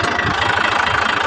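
A tractor's diesel engine idles close by, a steady mid-low chug with a rapid knocking pulse running evenly throughout, with no voices.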